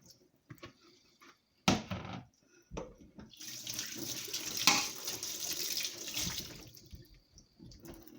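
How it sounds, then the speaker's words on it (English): Tap water runs into a bowl being rinsed, a close splashing gush that starts with brief bursts and then flows steadily before easing off. "I'm just giving the bowl a rinse."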